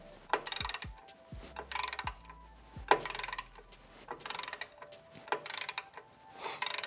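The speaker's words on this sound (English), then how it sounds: "I've got it on a long 1/2-inch ratcheting bar, and these loosen up fairly easily." A long 1/2-inch ratchet with a 7/16 socket loosens bolts while fitting rock sliders to a Rivian R1T or R1S, producing close bursts of rapid clicking separated by short pauses and some knocks, with no speech.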